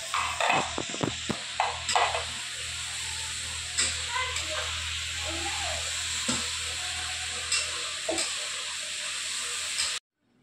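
Chopped onions fry in a pan for a chicken biryani, a steady close sizzle and hiss broken by irregular scraping stirs and clinks, then cutting off abruptly.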